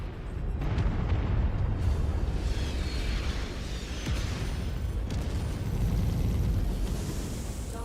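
An enemy mech is destroyed in the MechWarrior 5 video game, bursting in a long, loud roaring explosion with sustained rumbling and crackling blasts lasting several seconds.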